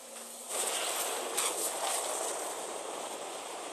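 A ship's quantum drive spools up in Star Citizen, a steady broadband whoosh rising after half a second and holding as a sustained airy hum with a few brief brighter surges.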